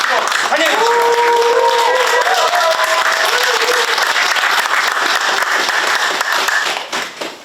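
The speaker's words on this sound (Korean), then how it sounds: "여러분 큰 박수로 환영해 주시기 바랍니다." A crowd applauds speakers at a press conference, steady dense clapping with a few voices mixed in, holding strong before tapering off at the close.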